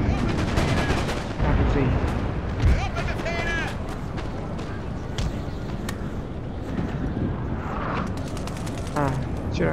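Cannon and artillery fire on a Napoleon: Total War battlefield, repeated booming shots and crackling volleys under continuous busy battle noise, while someone talks over much of it.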